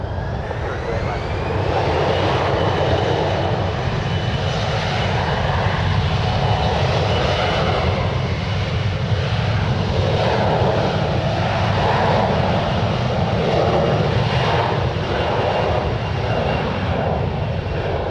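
Airliner taking off at San Francisco International Airport, a steady loud roar of engines that holds throughout, with a rising whine and broadband rumble sustained from start to finish.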